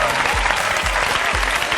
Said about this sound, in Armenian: ձեր ծափահարությունները